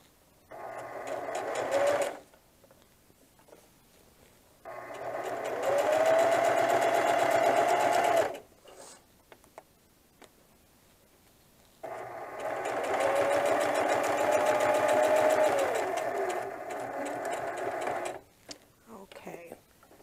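Sewing machine stitching a diaper bag tote close to the fabric edge, running in two long sustained whirring bursts with a short burst at the start, separated by quiet pauses; a voice speaks during the gaps.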